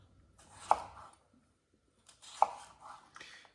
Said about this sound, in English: I don't cut up big chunks. I like them in these little cubes.